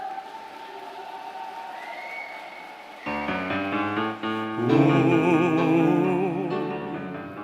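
An audience at a Korea-US alliance 70th anniversary ceremony bursts into applause and cheering partway through. The clapping is dense and sustained and swells loud just before a gospel song begins, with no talk over it.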